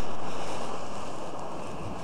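Clean sea waves wash onto a beach at a camping resort in a broad, steady rush of surf, with some wind noise, fading slightly over a short stretch and no voices.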